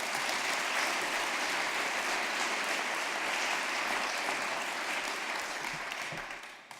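An audience at a Stanford business school award night applauds to welcome a speaker to the stage, producing a steady, loud wash of clapping from many hands that holds evenly and then begins to taper off at the end.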